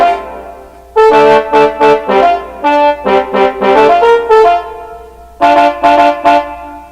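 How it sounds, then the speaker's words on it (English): A recreated trombone part plays rhythmic brass stabs in clustered phrases, warm and mid-toned, starting after a second of near-silence with a low hum beneath, loud and without voices. "And later with that is the trombone,"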